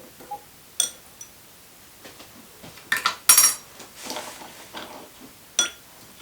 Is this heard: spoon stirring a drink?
yes